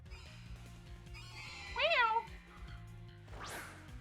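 A short cat-like meow cry from Sneasel, a video game creature, rises and falls once over quiet electronic background music, followed by a quick swooping sound effect.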